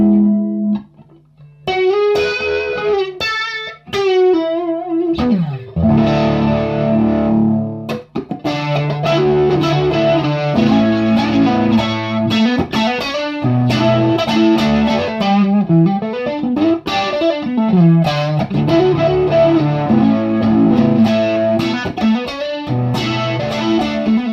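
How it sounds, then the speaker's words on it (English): A TC Electronic Vortex Flanger pedal sweeps over an electric guitar with single-coil pickups, playing strummed chords and picked notes with a warm, swirling, jet-like whoosh that rises and falls continuously throughout. "So that's what the Vortex Flanger sounds like with a single coil guitar."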